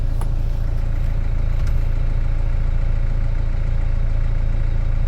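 Car engine running at a steady idle after being started, a continuous low rumble, close and even throughout, with no voices.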